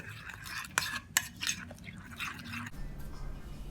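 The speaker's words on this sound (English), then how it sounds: "Give that a stir." A spoon stirs a fish marinade of garlic, shallots, chopped dill and fish sauce in a bowl, making quiet scraping, clinking and wet squelching sounds in short irregular bursts, with a few sharper taps.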